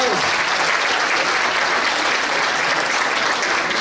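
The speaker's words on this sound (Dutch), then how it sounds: "Geef ze daar een applaus." Steady, dense audience applause for Saskia, the reigning Miss Glamour 2019, at a Miss & Mrs Glamour pageant, sustained and loud throughout with no pauses.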